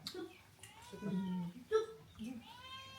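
A cat meows several times, high drawn-out cries close by, with quieter voices murmuring in between.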